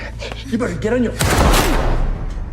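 A single loud gunshot fired during a dramatized rescue from a child-kidnapping syndicate, coming right after someone speaks and followed by a rough, fading tail.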